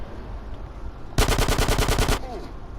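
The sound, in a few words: pistol gunshots in a video game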